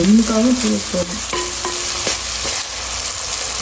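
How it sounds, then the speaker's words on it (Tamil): Onions fry and are stirred in a clay pot for fish curry, giving a close sizzle with scraping stir strokes. A faint background voice or tone is heard briefly at the start. "வெங்காயம் வதங்குவது நல்ல மனமாக இருக்கிறது"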